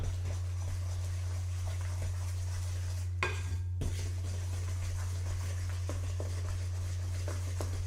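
Batter is stirred by hand in a bowl, a soft steady scraping and clinking of the utensil against the bowl, heard under a constant low hum with one brief louder knock. No one speaks.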